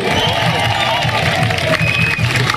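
A loud, dense crowd at a Basse-Terre carnival parade cheers and applauds the Tannis Girls, with steady clapping and shouting under continuous noise for the whole stretch.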